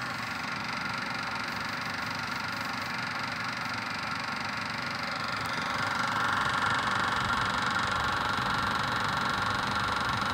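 Servis ExtraSpin 503 spin dryer at its top spin of 1400 RPM, a constant low whirring drone with faint vibration that rises slightly in level partway through, fairly quiet and heard alone.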